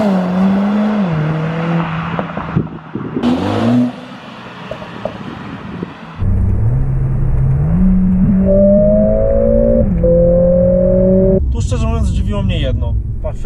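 A 2019 Mercedes CLA45 AMG with 390 hp launching under launch control, its engine climbing through stepped gear changes with a brief lull, then surging loud again toward the end; a voice talks at points over the engine.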